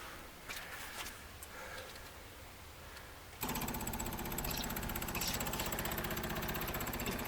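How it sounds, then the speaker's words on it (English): After a quiet stretch, the electric fuel pump in a 1954 Buick abruptly switches on and keeps up a steady, rapid mechanical buzz. "Pop fuel pump on."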